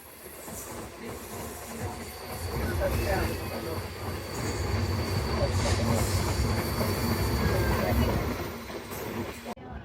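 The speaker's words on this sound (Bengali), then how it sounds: "আমাদের বেনাপোল অভিমুখী রূপসী বাংলা এক্সপ্রেস ট্রেনটি এখন মাওয়া রেল স্টেশন থ্রুপাস করে যাবে" The Rupashi Bangla Express, bound for Benapole, rolls slowly through Mawa railway station, its wagons clattering and hissing with faint wheel squeal in a steady rumble that swells and fades, with a voice underneath.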